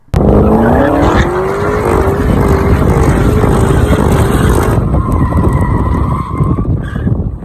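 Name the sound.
cars drifting with tires skidding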